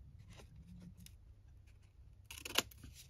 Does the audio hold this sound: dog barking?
no